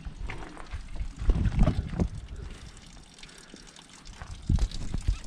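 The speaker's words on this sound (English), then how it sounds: "Now she's bloody running water everywhere." Water pouring, trickling and dribbling off an off-road vehicle's chassis and exhaust just after a deep water crossing on a Western Australia trip, a close, uneven run-off with heavier gushing bursts near the start and end.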